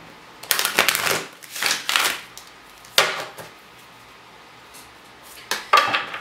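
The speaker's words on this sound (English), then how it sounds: "Shuffle, shuffle, shuffle, shuffle, shuffle." Tarot cards shuffled by hand during a reading, several bursts of papery riffling and slapping separated by short pauses, close and fairly loud.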